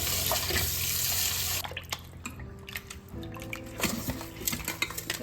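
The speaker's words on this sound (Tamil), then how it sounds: "ஃபஸ்ட்டு அதை தண்ணியில் முதல்ல கழுவிக்கலாம்." Running tap water gushes, stops for some wet handling and clinking, then flows again while a murrel fish is rinsed close by.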